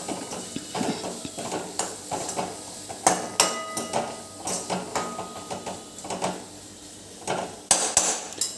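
Red chili powder, coriander-cumin powder and turmeric are stirred in a pan for garlic spinach (lasuni palak), with a spoon scraping and clinking against the metal amid a soft sizzle.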